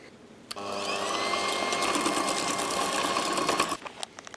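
An electric mixer beats egg yolks into chocolate pudding batter, giving a loud, steady motor whir that starts abruptly, runs for about three seconds and then cuts off.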